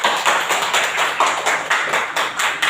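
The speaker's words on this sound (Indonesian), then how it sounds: "Tepuk tangan dulu." Classroom group clapping in a teachers' coaching session after a student group finishes presenting, a steady burst of many hands clapping close by with no talk over it.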